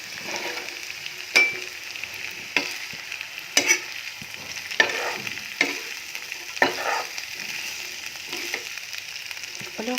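Cooked rice being stir-fried in a hot pan, a moderate sizzling hiss broken by repeated spatula scrapes and knocks at irregular intervals, close and fairly quiet.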